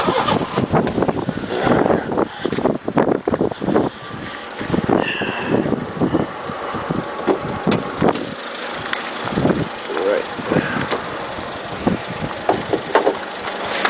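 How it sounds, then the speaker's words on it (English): A 2001 automatic Honda Civic engine runs with a steady, close-up hum under the open hood, overlaid by intermittent knocks, rustles and some wind noise on the microphone. "that's what a new Honda engine sounds"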